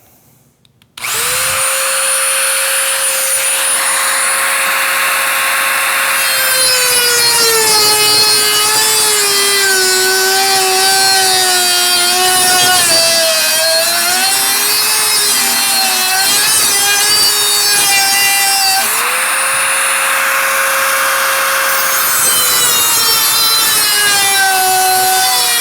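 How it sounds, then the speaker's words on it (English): A Dremel rotary tool with an abrasive cutoff wheel cuts through fiberglass-reinforced material for an electronics enclosure, a loud, close, high whining grind that starts abruptly and holds for over twenty seconds, its pitch sagging and recovering as the wheel bites. "I just put those in the Dremel tool and we will just abrasively cut this out. And this is noisy and this is dusty"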